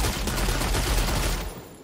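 Gunfire in the Lost Ark video game, a dense rapid barrage of shots blending into a continuous roar that cuts off and fades near the end.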